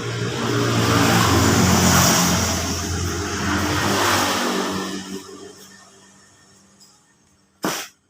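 Honda Jupiter Z motorcycle engine running loud with revving, being checked for a charging fault with no power from battery or regulator, then winding down to quiet before a short sharp knock at the end.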